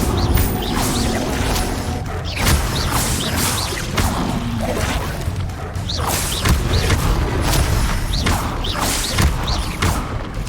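Incendio fire spells cast during combat in the video game Hogwarts Legacy, a steady loud din of whooshing flames, thumps, creaks and crashing impacts repeating throughout.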